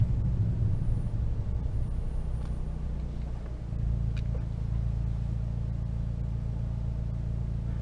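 Steady low engine drone of a Fiat Abarth 500 heard from inside the cabin while cruising slowly in fifth gear, a moderate even rumble with a slight dip and swell midway, no talking.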